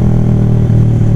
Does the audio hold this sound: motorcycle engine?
yes